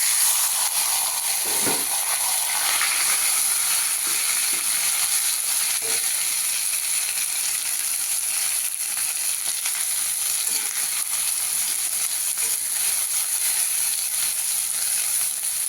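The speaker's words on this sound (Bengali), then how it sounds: "এবারে কালো জিরে ফোড়ন দিয়ে দিলাম তেলে পাতাটা দিয়ে" Black cumin seeds and leafy vegetable leaves, gourd, radish and cauliflower greens, sizzle steadily in hot oil, a continuous bright frying hiss with a few soft bumps, close and fairly loud, no voices.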